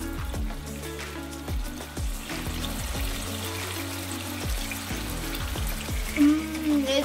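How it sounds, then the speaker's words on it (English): Chicken cooking in a pan with tomatoes and tomato puree for a spicy chicken biryani, giving a close, steady bubbling crackle with sizzling pops throughout and no talk. "can you hear that bubbling crackle noise?"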